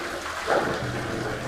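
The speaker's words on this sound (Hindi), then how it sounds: "बिल्कुल साफ़ शफाफ पानी है माशाल्लाह" Clear spring water flows steadily near a village on a hill in Abbottabad, Hazara, a close, constant broadband rush with a brief louder gush in the middle.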